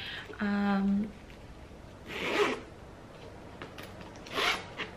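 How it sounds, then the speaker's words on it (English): A zipper on a Louis Vuitton toiletry pouch is drawn in two or three quick, raspy pulls with short pauses between, close by and fairly quiet, after a brief tonal hum at the start. "The zipper is really smooth on this baby."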